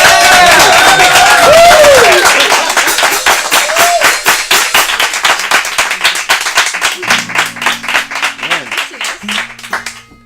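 Audience applause, loud at first with singing fading out, then thinning into scattered claps as a soft keyboard tone enters.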